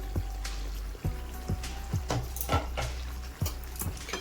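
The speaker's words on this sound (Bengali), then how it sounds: "চিকেনটা একটু নাড়িয়ে দিই" A spoon stirs chicken bhuna masala in a covered pot, making rhythmic knocks and scrapes about every half second over a steady low simmer, close and loud.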